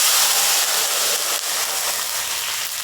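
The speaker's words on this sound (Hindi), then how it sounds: "फ्लेम को कम कर देंगे और उसमें डालेंगे हम 1 गिलास पानी" Hot spiced oil with fenugreek seeds and red chilli, on low flame, as a glass of water is poured in for kadhi, giving a loud, steady hiss and sizzle throughout with no talking.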